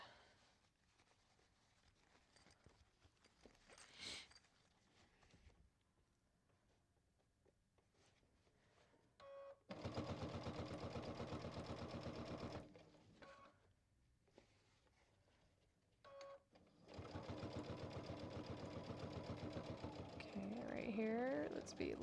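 A sewing machine stitches a quilted backpack in two sustained bursts, back stitching between pauses where a voice talks over faint handling sounds.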